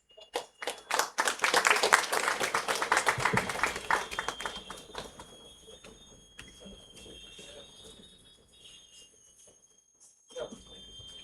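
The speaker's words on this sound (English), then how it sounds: "So a round of applause." Applause from an audience at the inauguration of a one-day national workshop on mathematical sciences, a burst of dense clapping that fades into scattered claps over several seconds, with a brief final clap near the end.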